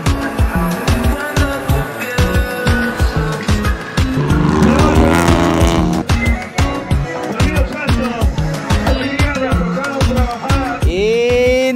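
A competing rally car roars past at a sporting rally, its loud engine revving hard and rhythmically throughout, ending with a rising rev.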